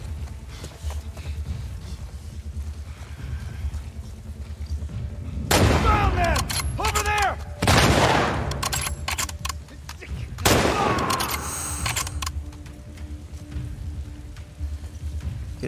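Rifle gunfire in The Last of Us Part II, several loud bursts of shots clustered in the middle, with quieter game ambience and occasional clatter before and after.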